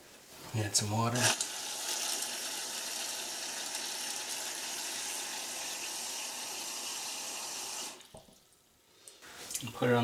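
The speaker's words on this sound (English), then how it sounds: "Add some water." Steady running water pours into a pot for several seconds, a continuous splashing stream, framed by brief clatter and movement at the start and end.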